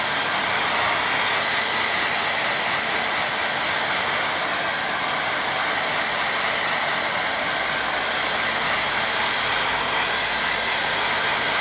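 A hair dryer blows continuously over a watercolour painting, a loud, steady, full-bodied whoosh of air that does not let up from start to finish.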